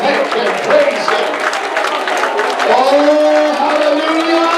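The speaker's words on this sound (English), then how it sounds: "Clap your hands. Lift your voice. Shout to God." A church congregation at a revival service claps and shouts praise together, a steady dense crowd roar with cheering voices and clapping throughout, sustained and fairly loud.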